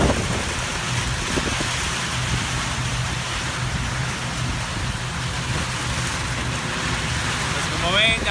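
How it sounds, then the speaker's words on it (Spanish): Steady rain falls at an oil well site, a dense, even hiss that holds through the whole stretch with a low rumble underneath and no clear voices. "Pues como ven, ya me quedé atrapado con la lluvia."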